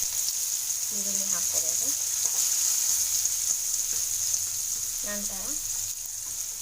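Onion sizzling steadily in hot oil in a pan while okra sukka is being made, a constant close hiss with a voice speaking briefly over it twice.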